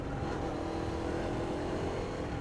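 A motorcycle engine hums and revs gently under light throttle, a faint, continuous buzzing drone with a slowly rising tone and no voices.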